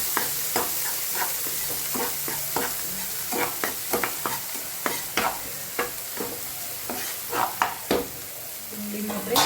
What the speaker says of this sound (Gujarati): સહેજ હિંગ અને લીલી ડુંગળી નાખીશું. ડુંગળીને થોડીક વાર આપણે પાકવા દઈએ.